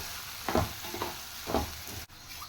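Coriander powder is fried in a pan, giving a soft, steady sizzle with three rhythmic stirring scrapes about half a second apart and a brief sharp knock near the end, close and without talk.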